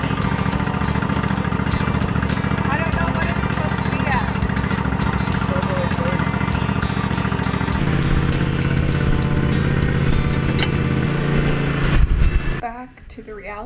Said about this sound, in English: the lawnmower got the call to action today